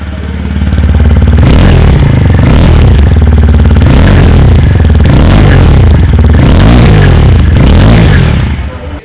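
A TVS Apache RTR 160 4V motorcycle engine revving, loud and close, with repeated rising and falling revs over a steady throbbing idle and no talk.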